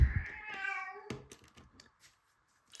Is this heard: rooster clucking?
no